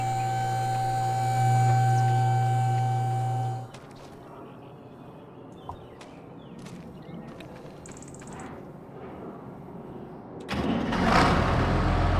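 A small tractor with a boom sprayer in Farming Simulator 25 runs with a loud, steady engine drone that cuts off. A later burst brings the engine roaring back up.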